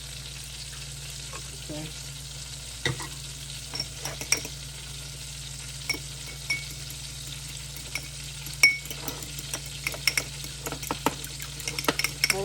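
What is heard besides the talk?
chicken cutlets and honey sauce sizzling on the stovetop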